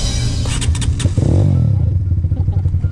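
A motorcycle engine revs and labours loudly up close as a novice rider works the throttle and clutch on a downhill stretch, the pitch rising and falling unevenly with a brief clatter in the middle.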